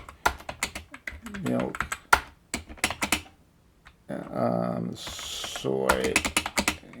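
Quick mechanical key presses on a braille keyboard clack in short bursts while a voice speaks between and over them, with brief electronic speech tones.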